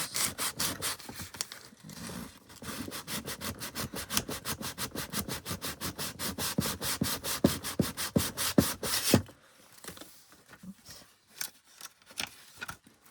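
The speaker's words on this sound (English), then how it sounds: "It might work a little better with sandpaper because you can kind of curl it around the pages." Sandpaper rubs rapidly back and forth across the top edges of a Victorian-style handmade junk journal's paper signature pages, giving a steady, close, raspy scrubbing rhythm that stops abruptly partway through, followed by a few lighter scrapes and handling noises.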